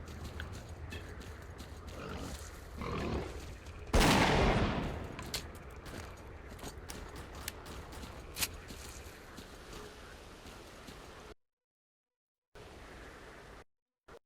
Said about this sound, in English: shotgun's a little loud